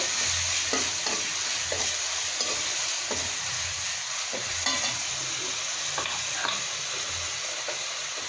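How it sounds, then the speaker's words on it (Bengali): Green chili, onion and garlic paste fries in a pan, hissing and sizzling steadily while a spoon stirs it in repeated scraping strokes, close by and with no talk. "এবার আমি কাঁচামরিচ বাটা পেঁয়াজ রসুন বাটা ভালো করে কষিয়ে নেব"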